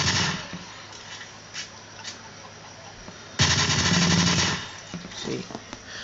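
Rapid-fire video game gunfire triggered with a Datel Wildfire Evo rapid-fire controller, with scattered single shots followed by a loud, sustained burst of fast automatic fire that cuts off and gives way to a few sparse pops.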